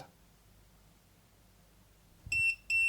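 Two short, shrill electronic beeps near the end after near silence, loud and evenly spaced like an alarm: a Datouboss DN-022 power inverter's overvoltage alarm at 15.2 volts.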